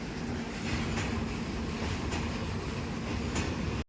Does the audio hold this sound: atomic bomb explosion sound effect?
no